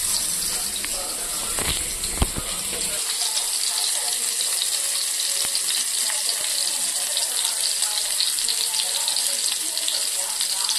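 Fish fries on a flat dosa tawa with a steady, close sizzling hiss that runs throughout, a few sharp clinks near the start, with no talking.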